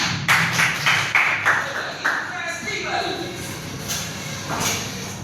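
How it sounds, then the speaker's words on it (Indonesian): A classroom group claps in a few rhythmic bursts near the start, then voices talk over the fading sound. "Tepuk tangan"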